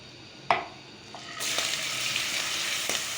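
Marinated chicken goes into hot oil in a pan, making a sharp clatter and then a steady, loud sizzle and crackle with a few stirring knocks.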